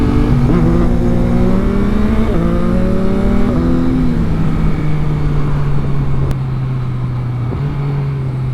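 Motorcycle engine pulling steadily after a shift into fourth gear on a street ride, a loud continuous drone with rising pitch sweeps and a brief shift dip near the middle, close and alone with no talk.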